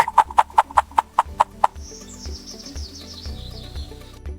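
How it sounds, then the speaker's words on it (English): A chicken gives a quick run of eight short, evenly spaced clucks, then a thin high chirping tone trails on over faint background noise. "The chicken says, "Cluck, cluck.""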